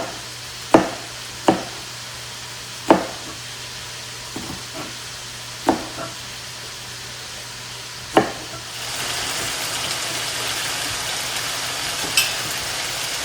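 Green chillies tossed into a pan: a few separate sharp knocks and scrapes of stirring, then a steady close sizzle of frying that takes over for the last few seconds.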